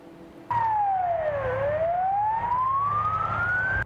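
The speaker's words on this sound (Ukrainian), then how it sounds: "Так із сиреною розчищають вулиці у Миколаєві." A loud emergency siren wails on a vehicle clearing snowbound streets in Mykolaiv, Ukraine, sweeping down then slowly rising in pitch, with engine rumble underneath; it starts abruptly after a brief quiet moment.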